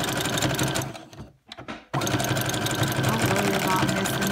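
A sewing machine stitches a frontal band onto a black cap with a zigzag stitch, running in a close, fast, continuous mechanical chatter that briefly stops and then starts again.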